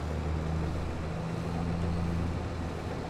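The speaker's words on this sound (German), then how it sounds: "Futtermischer einschalten, so war's." A feed mixer switched on in the Farming Simulator 22 video game gives a steady, low machine drone with an engine-like hum. It runs evenly throughout, with no talking.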